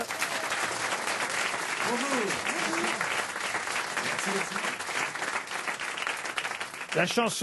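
A French comedy show audience gives sustained, steady applause to welcome a musical group, with whoops and voices rising through the clapping.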